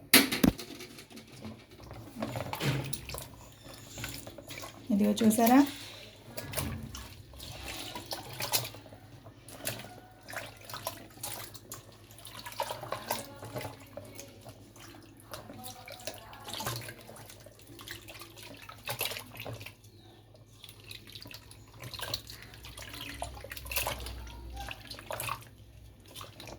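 Water poured into a large bowl to wash homemade butter, intermittent splashing and sloshing with drips, and a brief voice speaking partway through.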